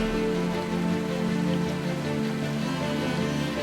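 A heavy rain downpour pours steadily and loudly during an off-road trip along a ridge in Canada, a dense continuous hiss of water on surfaces with no speech.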